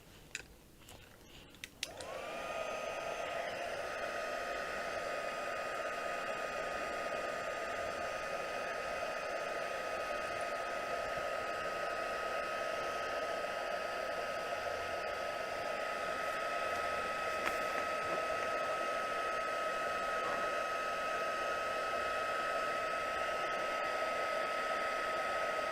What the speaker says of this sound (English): we're going to heat emboss this bit